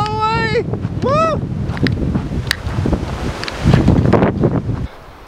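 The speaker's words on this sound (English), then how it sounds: "You see how windy it is?" Strong wind at Pyramid Hill in outback Victoria, Australia, buffets the microphone in heavy gusts, roaring and rumbling throughout, with a voice calling out briefly over it.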